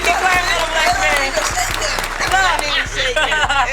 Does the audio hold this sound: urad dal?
no